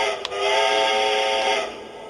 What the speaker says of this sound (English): This locomotive has nice sound. It has nice horn,